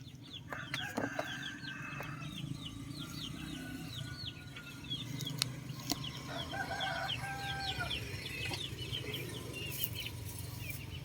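Chickens clucking and calling around a yard, including a black Jolohano hen, with a rooster crowing in the mix and steady low background noise throughout.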